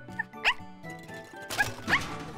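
A cartoon puppy in an animated children's show gives two short, bright barks about a second and a half apart, close and moderately loud.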